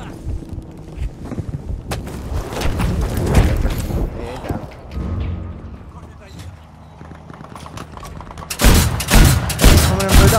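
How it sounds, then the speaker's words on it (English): Battlefield 5 gunfire crackles in rapid volleys and scattered shots under a player's constant talking, growing into louder, dense bursts toward the end. "I'm getting shot at."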